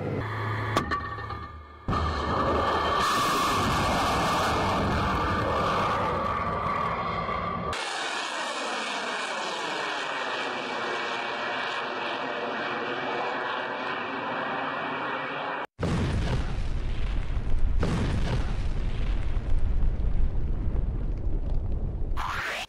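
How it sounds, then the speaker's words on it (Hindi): Missile launch during a Russian military exercise in Belarus: a loud sustained roaring rush with abrupt cuts between stretches, followed by a heavy broadband blast, all without talk. "सिर्फ 25 सेकंड में मिसाइल ने अपने टारगेट को तबाह कर दिया है।"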